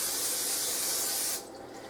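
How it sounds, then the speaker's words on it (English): Cooking spray hisses onto a baking dish being prepared for a tater tot breakfast casserole: a single close, steady burst of about a second and a half that cuts off abruptly, leaving quiet room tone. "spray it with some cooking spray"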